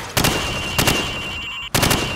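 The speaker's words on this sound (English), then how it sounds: "Now, shoot at the targets while firing from the hip." Rifle fire at targets in Call of Duty 4 Modern Warfare, shot from the hip: three sharp, loud gunshots spaced roughly half a second to a second apart, with a steady electronic tone and game ambience between them.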